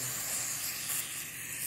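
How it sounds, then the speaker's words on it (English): An aerosol can of carburetor cleaner sprays steadily into the inside of a Tecumseh engine carburetor, a continuous close hiss lasting the whole moment with no pauses. "Spray out the inside of the carb."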